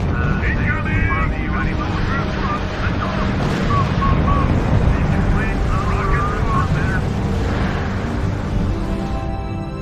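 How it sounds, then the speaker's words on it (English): A recon plane takes off in the war strategy video game R.U.S.E., its engine a continuous loud droning roar with wind-like rush, overlaid by faint in-game radio voices. "A new recon plane is taking off."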